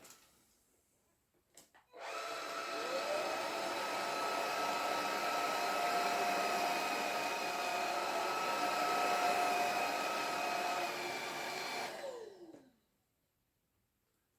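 A Ganiza V25 cordless vacuum cleaner switches on, holds a steady high-pitched whine for about ten seconds and then spins down, with a clear start and stop around it.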